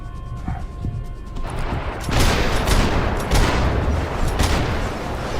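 Gunfire from Max Payne 3 erupts in a dense, loud fusillade of rapid shots and booms, building into a continuous barrage with faint voices underneath.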